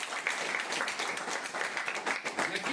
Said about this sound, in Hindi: आप सभी का इस लाइव सेशन में जोरदार तालियों से स्वागत है।